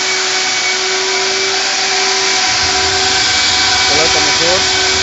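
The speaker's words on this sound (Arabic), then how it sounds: "ده لي توصيل غسيل السيارة من داخل المقاعد، اللي هي المكنسة" A three-motor Italian-Swedish steam car wash machine's vacuum cleaner drones steadily with a constant hiss and hum, loud and close, with faint voices underneath.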